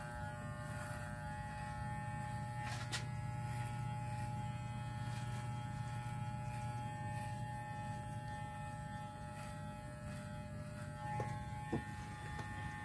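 A Walmart hair clipper with its lever pushed up and blade at the closest setting buzzes steadily while cutting a taper fade, a faint, continuous electric hum with no talking over it.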